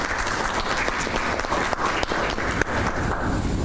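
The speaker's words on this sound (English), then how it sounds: "Can I have a round of applause for that, please?" Loud, close applause from a conference audience fills the hall, many hands clapping in a dense, sustained patter with a few sharper individual claps standing out.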